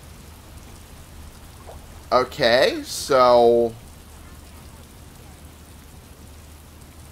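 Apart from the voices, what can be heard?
rain in the video game Fable II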